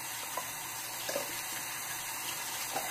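A tap runs steadily, with water splashing and rinsing over a constant hiss and a few brief clinks.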